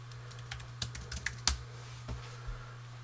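Login and password keys tapped on a computer keyboard, about a dozen quick, uneven clicks with one sharper stroke, close but quiet over a low steady hum.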